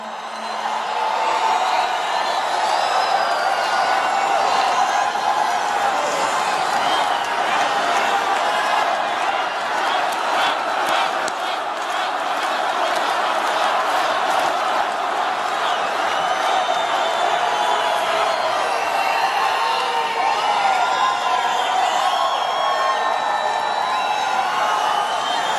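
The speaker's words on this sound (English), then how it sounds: "What a crowd." Large political rally crowd at a presidential speech, a steady loud roar of cheering, whoops and applause sustained throughout with some voices mixed in.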